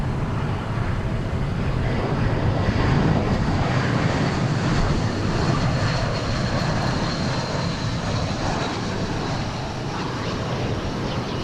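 United Airlines jet airliner at DFW Airport, a steady broad engine roar held throughout, fairly loud and continuous with a faint distant traffic hum beneath.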